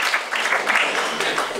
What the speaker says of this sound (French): on peut presque l'applaudir, qu'est-ce que vous en dites? Applaudissons-la!